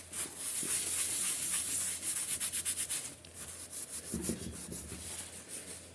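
Rags rubbing carburetor cleaner over a Briggs engine surface during a tractor engine rebuild, a close scrubbing hiss that comes in rhythmic back-and-forth strokes and then eases into slower wipes.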